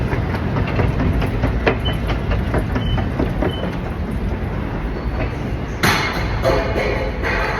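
Subway train riding toward Manhattan in New York, a loud steady rumble with rhythmic clicks and thuds of the wheels over rail joints, and a sharp metallic burst near the end.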